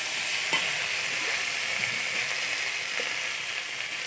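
A paste of ground mustard, cumin, ginger and green chili fries in a pan while being stirred, giving a steady close hiss of sizzling broken by a few light utensil scrapes, with no talking.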